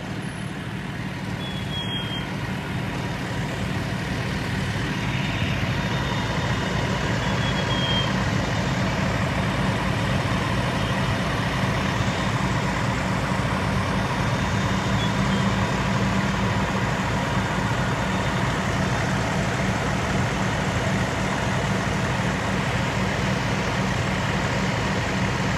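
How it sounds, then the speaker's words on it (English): Fire trucks idle at a structure fire on a residential street, a steady low diesel rumble throughout with a faint reversing beep briefly audible early on, no talk. "we do have good looking fire trucks here"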